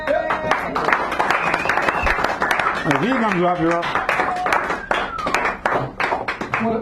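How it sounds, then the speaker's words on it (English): Scattered audience clapping for the keynote poet at a poetry reading in a San Francisco café, sharp individual claps mixing with voices as people talk over it. "give him a round of applause"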